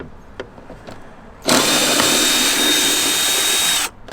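Power tool spinning out a 10mm hex bolt on a Toyota Tacoma, a loud steady whine lasting about two and a half seconds after a brief click, alone and close.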